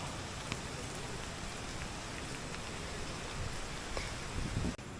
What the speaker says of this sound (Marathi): पाऊस मित्रांनो कंटिन्यू पडतोय, जबरदस्त पाऊस पडतोय